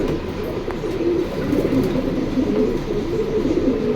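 Pigeons coo repeatedly at a market stall at Jinjira Bazar, where birds are sold with eggs; the low rolling calls are close and continuous over a dense background din.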